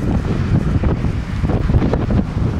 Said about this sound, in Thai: นี่ลมแรงนะมีกัสนะครับ